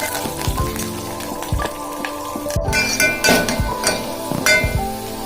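Sliced onion and curry leaves sizzle steadily in a pan while a spoon stirs them. Sharp metallic clinks and scrapes ring out over the continuous frying hiss, close and fairly loud.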